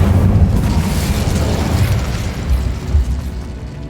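A roaring, rumbling burst from the Incendio fire spell in Hogwarts Legacy, loud and sustained at first, then slowly fading under ongoing combat ambience.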